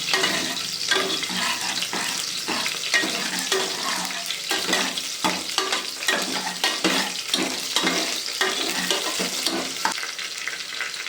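Finely chopped ingredients fry in hot oil as a tempering for a green gram masala curry. A continuous loud sizzle runs throughout, with regular clattering stirs of a spoon in the pan.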